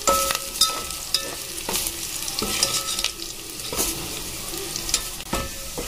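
Onions sizzling as they fry in a pan for dal fry, a steady close crackle broken by repeated scraping stirs of a spoon against the pan, with no talking.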